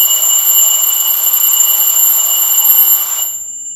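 A mechanical alarm clock rings loud and shrill at the clock industry museum in Schwenningen, with a continuous metallic bell trill that stops abruptly near the end, leaving near silence.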